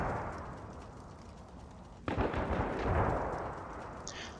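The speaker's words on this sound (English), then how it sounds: "I will just leave the camera there for a few seconds so we can all enjoy the pretty tank fire" Tank guns fire in a World of Tanks Blitz battle: low rumbling bursts and a sudden sharp blast partway through, followed by rolling explosive booms at moderate distance.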